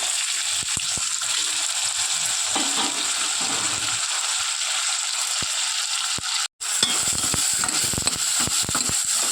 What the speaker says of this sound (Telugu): ఉల్లిపాయ ముక్కలు, టమాటాలు, పచ్చిమిర్చి అన్నీ ఒకేసారి వేసేసాను